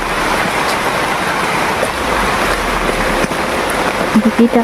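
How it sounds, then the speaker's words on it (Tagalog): Steady heavy rain hissing across the whole clip, a dense broadband wash with a few faint thuds near the end. "Yan, lumalakas na po ang ulan."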